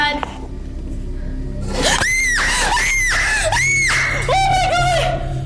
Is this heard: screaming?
yes